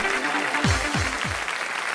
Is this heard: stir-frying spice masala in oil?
no